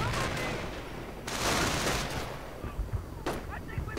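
Rifle and grenade fire crackles through a Company of Heroes-style strategy game battle, with dense overlapping shots and a heavier burst of explosive noise, while a commentator talks over the din.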